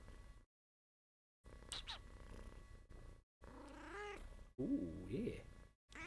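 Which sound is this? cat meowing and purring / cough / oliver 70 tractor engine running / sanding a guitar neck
cat meowing and purring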